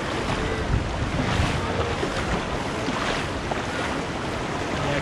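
River water rushes and splashes continuously as people wade across a river at Guejar Park in Meta, Colombia. The flow is broadband and steady, with wind buffeting the microphone and no voices.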